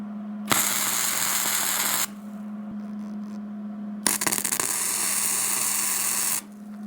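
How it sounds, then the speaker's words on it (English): Two sustained bursts of MIG welding crackle and buzz from a Hobart 210MVP tacking a steel sleeve and support on a homemade grapple arm pivot, each lasting a couple of seconds, with a steady hum between and no talking. "Okay, so I got the first sleeve and support tack welded"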